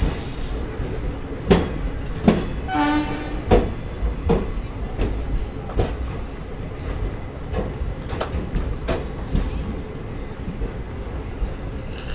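The Guruvayur Chennai Express, an AC 3-tier train, pulls into Chengalpattu station with repeated sharp wheel squeals and clanks over a low rolling rumble, heard from on board.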